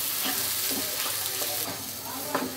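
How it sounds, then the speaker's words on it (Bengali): A spoon stirs boiled lentils into spices in a hot pan, giving a steady sizzle broken by a few soft scraping strokes, close and continuous, with no voices. "ডালটা ভালো করে আমি নাড়াচাড়া দিয়ে দিতেছি এবং মশলাগুলোর সাথে মিশিয়ে দিতেছি।"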